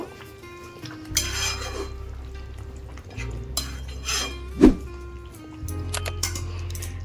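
Fish korma with fried onions and garam masala powder is stirred in a pot, with intermittent spoon clinks and scrapes, one sharper knock, and soft wet squishing over a low hum, nearby and without speech.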